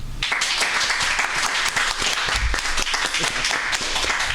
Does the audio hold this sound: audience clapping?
yes